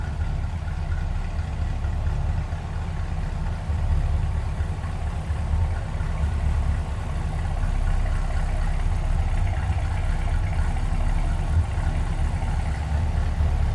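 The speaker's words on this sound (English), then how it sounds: "Nice little rumble out of that 327. Nothing crazy, but nice deep throaty exhaust note." A 1965 Chevrolet Impala SS hardtop with a 327 V8 idles steadily, a deep throaty exhaust rumble holding an even low pulse throughout with no revving, heard close and alone.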